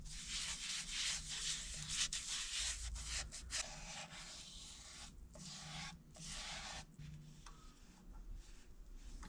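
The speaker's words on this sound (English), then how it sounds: "we're going to apply the first layer of sanding sealer" Steady rubbing and scraping of cloth applying sanding sealer onto a turned wooden log piece, in bursts with brief pauses, close by and fairly quiet.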